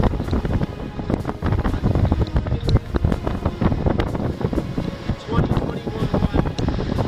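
Strong wind of around 20 knots buffets a sailboat at sea, giving a steady, loud, rushing roar with gusty microphone rumble throughout.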